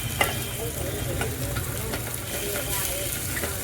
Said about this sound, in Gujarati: પેલા બધો મસાલો આપણે મેંગીનો એમાં કકડાઈ નાખીએ તેલમાં.